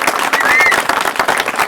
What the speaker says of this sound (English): I'd like to give a round of applause to all of our guys asking questions.